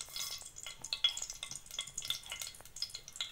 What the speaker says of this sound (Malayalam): ഒരു 2 ടീസ്പൂൺ കടുകിടുക